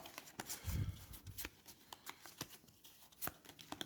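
Cardboard hut tiles for the Legacy of Yu board game being mixed by hand, a series of soft clicks and rustling shuffles at close range, faint and irregular, with no talk.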